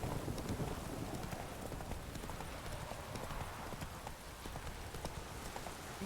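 A horse gallops in The Witcher 3, a steady rapid clip-clop of hooves that stays continuous and fairly close throughout.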